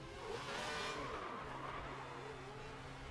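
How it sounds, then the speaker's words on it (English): Formula 1 race cars in F1 2010 skid and squeal through a crash between two cars, with a steady engine drone and wavering tire screech, no voices. "Buemi and Chandok had a huge collision there"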